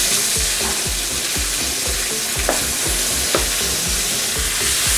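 Large onions sizzle in well-heated oil in a heavy-bottomed frying pan, a dense steady hiss with a regular rhythm of spoon strokes scraping and stirring through them, close and loud with no voices.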